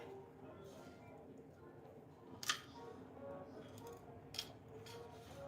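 Scissors snipping off an extra piece of material while making earrings, two crisp close cuts a couple of seconds apart over a quiet room hum.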